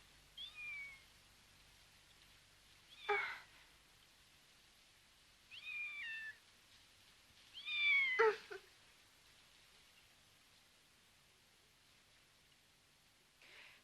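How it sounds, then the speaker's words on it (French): A cat found outside and warming under a quilt meows several times in short, separate calls spaced through a quiet room, moderately close and fairly soft. "sous sa couette, elle a mis le chat qu'elle a trouvé et elle essaie de le réchauffer"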